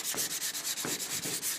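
Hand scuffing of a metal surface before spraying epoxy primer: close, steady rhythmic rasping strokes, roughly two or three per second, alone without talk.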